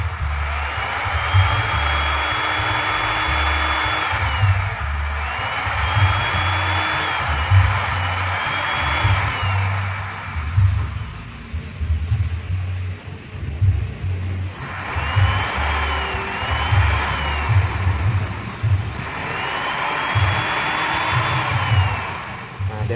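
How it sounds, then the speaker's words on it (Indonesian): A repaired sewing machine dynamo motor spins with a steady whirring hum, cycling on and off in bursts of a few seconds. "bisa perhatikan di sini dinamonya itu muter ya teman-teman"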